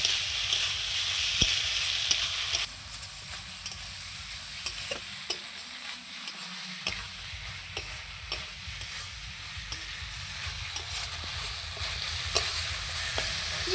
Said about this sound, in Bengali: এই মশলাটা দিয়ে খুব সুন্দর করে আবারও আমি ভেজে নেব।